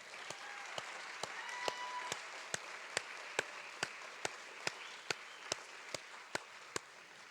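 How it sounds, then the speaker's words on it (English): Audience applause for graduates at a district summer credit graduation ceremony: a dense, steady wash of clapping from the crowd throughout, with one sharp, evenly spaced clap ringing out close by about three times a second. "let's start with giving the graduates a big round of applause and yell again"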